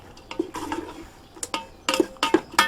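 Onions being stirred in oil and salt inside a Ninja Foodi pot, a utensil scraping and clinking against the pot in several short, close bursts with pauses between.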